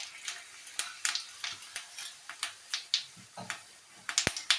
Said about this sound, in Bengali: এবার আমি জোয়ান, সাজিরে আর এমনি জিরে দিয়ে দেবো